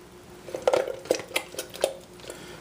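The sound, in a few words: stirring BBQ pork sauce in a pot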